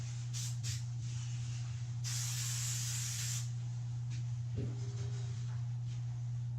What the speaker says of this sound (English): I'm gonna spray this with some adhesive spray, just a little bit.